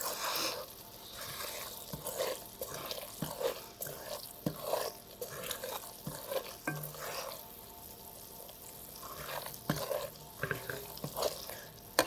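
Semolina roasting and being stirred in a pan for halwa, with light scraping and soft crackle running steadily throughout at moderate level, no talk.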